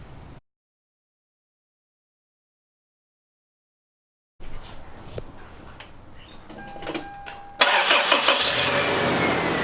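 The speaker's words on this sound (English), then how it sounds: "here we have the truck running" A Toyota truck engine, just fitted with a Toyota oil filter and Valvoline oil, cranks and catches after a stretch of silence, then keeps running and grows louder and rougher toward the end.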